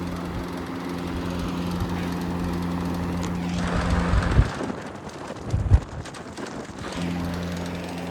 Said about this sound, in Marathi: तर आपल्या सेवेसाठी डायरेक्ट भला मोठा AC पंखा